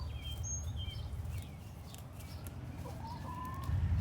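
Backyard hens clucking softly while pecking at cabbage, a few short chirpy clucks and murmurs at moderate distance over a steady outdoor background, with no voices.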